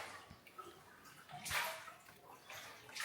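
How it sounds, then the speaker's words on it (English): Water drips and splashes inside a limestone cave in Ninh Binh, Vietnam, faint scattered drops and a soft wash of trickling echoing lightly, with no voices. "It's dripping."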